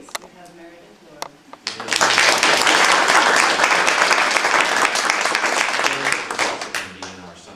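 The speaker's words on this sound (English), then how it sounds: "why don't we go ahead and give the students another round of applause" An audience applauds student interns at a Lassen astrobiology recognition night: after a few seconds of quiet talking and isolated claps, a full round of dense clapping swells in and holds loudly before tapering toward the end.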